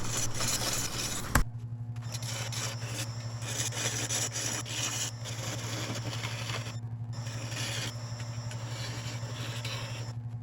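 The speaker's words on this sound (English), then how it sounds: "I use the vacuum chuck once again to hold the lid while I undercut the bottom of it and do the sanding" A wooden lid held on a vacuum chuck is sanded as it spins on a lathe, giving a steady, moderately loud scratchy rubbing over a constant motor hum, with one sharp knock near the start.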